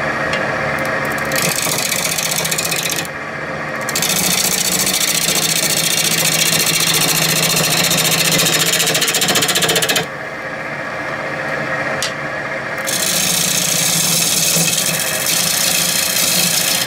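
Wood lathe running in a woodturning shop, a loud, continuous motor drone with rasping texture that dips slightly in a couple of places but never stops.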